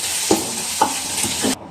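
Green chillies fry in a Punjabi dhaba-style rajma masala, a steady loud sizzle broken by three spoon-stirring scrapes at roughly even intervals before the frying noise abruptly cuts off.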